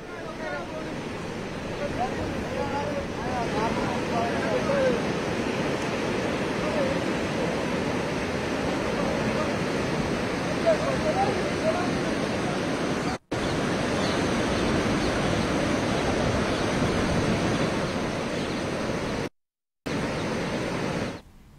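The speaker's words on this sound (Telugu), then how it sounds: "నాగిరెడ్డిపల్లి దగ్గర రోడ్డుపై వరద నీరు పొంగిపొర్లుతూ ఉండడంతో భువనగిరి, నల్గొండ మధ్య రాకపోకలు నిలిపివేశారు" Flood water pours over a road near Nagireddipalli after heavy rains, a loud, continuous rushing roar that drowns out other sound, broken by two brief cuts.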